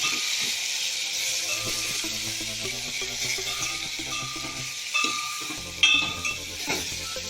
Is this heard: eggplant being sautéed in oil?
yes